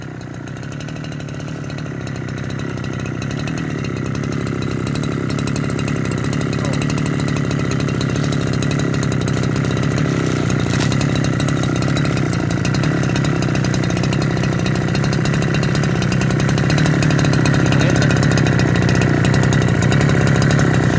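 A chainsaw runs loud and steady, its engine droning continuously and building slightly as it cuts through a palm trunk, with no pauses throughout.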